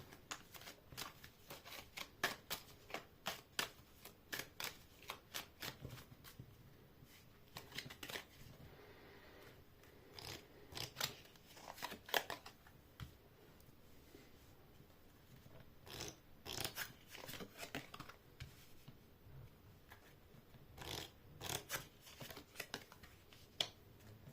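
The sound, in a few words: shuffling cards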